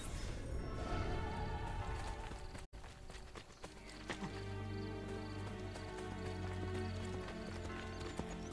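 Horse hooves from the video game Assassin's Creed Brotherhood clatter in a steady galloping rhythm, fairly close and moderately loud, over a low game music bed.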